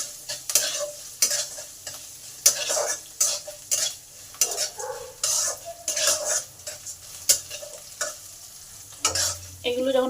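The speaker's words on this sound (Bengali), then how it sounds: "এই কাঁচা লঙ্কা কারি পাতাটাকেও ভালো করে ভেজে নেব।" Chopped green chili and curry leaves fry in hot oil with a steady sizzle, while a spatula clatters and scrapes against the pan in irregular strokes, close and clear, with no voices.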